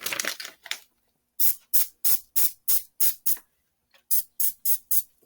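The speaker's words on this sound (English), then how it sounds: "about to do our check on our spray." Several sharp spray-bottle squirts onto a sublimation blanket panel at a heat press, a few rapid bursts, a pause, then a regular run of about six evenly spaced sprays, a gap, and four more.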